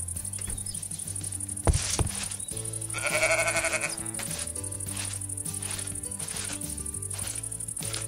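Sheep bleating in the Minecraft video game, several short bleats over a steady chirping, insect-like game ambience, with other blocky game sounds around them.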